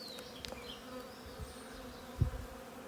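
A feral honeybee swarm buzzes faintly and steadily while comb frames are inspected, with a few soft thumps and handling knocks.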